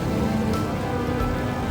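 Rain falls steadily at a road junction, a dense continuous patter and hiss heard close by without any pauses.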